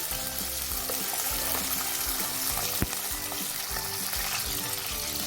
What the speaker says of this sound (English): Once the oil is heated, I am going to add the onions, the garlic,